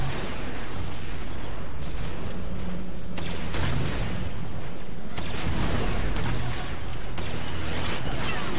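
Droids fire blasters at a wall in Star Wars Battlefront 2 on Christophsis, a dense continuous barrage of booming shots and impacts layered over one another, loud throughout.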